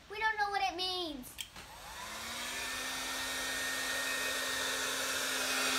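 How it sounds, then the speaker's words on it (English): A steady, airy blower roar from a heat gun playing over an acrylic paint pour starts after a short burst of voice and continues evenly and fairly close for several seconds. "So, we're using the heat gun, and let's see what happens."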